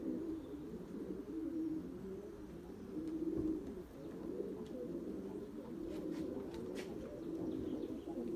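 Young white pigeons coo in a low, continuous murmur from a flock nearby, with a few faint chirps and light rustles over the top.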